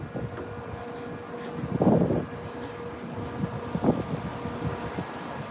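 Outdoor wind near Marina Bay Sands, Singapore, buffeting a microphone, a constant low roar with two brief stronger gusts.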